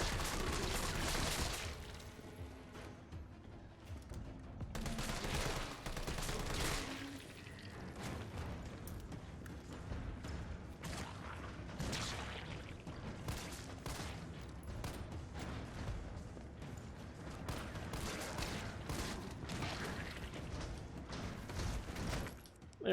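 Assault rifle gunfire in the Resident Evil 3 Remake, sustained loud bursts and rapid shots that continue steadily for over twenty seconds, with crashes and mechanical clanks mixed into the close, dense firing.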